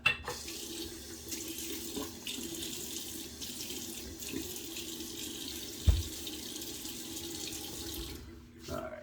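Tap water running into a bathroom sink before a shave, a steady close splashing stream with a few clunks and hand splashes, ending abruptly.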